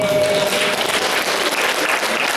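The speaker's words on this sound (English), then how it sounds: "Come on, round of applause." Sustained crowd applause at a Forever Living Products training presentation in Dubai, a dense, steady wash of many hands clapping throughout at even loudness, with no voices over it.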